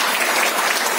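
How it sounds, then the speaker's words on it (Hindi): Loud, dense applause from an audience at a Women's Day speech event, a steady burst of clapping heard alone with no talking. "उनके लिए जोरदार ताली"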